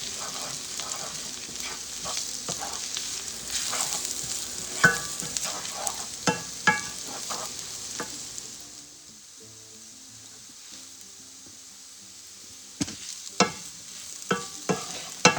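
Onions frying in a pan for a patty melt, a steady close sizzle broken by sharp stirring scrapes and taps that fade to a quiet hiss midway before the scraping returns.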